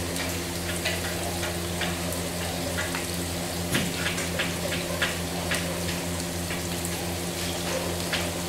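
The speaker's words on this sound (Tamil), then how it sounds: "நல்ல வெங்காயத்தை நல்லா வதக்கி எடுத்துக்கறலாம்" Onions frying in a pan for biryani, a steady crackling sizzle with scattered pops and occasional stirring scrapes, close over a low background hum.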